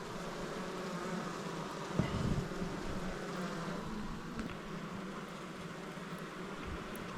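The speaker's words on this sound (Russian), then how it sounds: "Возвращаюсь к улью и начинаю струшивать пчел." A dense, steady swarm of honey bees buzzes loudly and continuously as they are shaken off hive frames during honey harvesting, with a short thump partway through and no voices.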